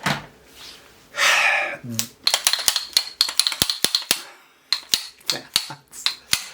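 An Atlas Gunworks Erebus pistol has its slide racked repeatedly, giving a run of sharp, close metallic clicks and clacks in quick succession, with a short rustle near the start.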